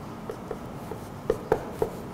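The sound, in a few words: writing on a board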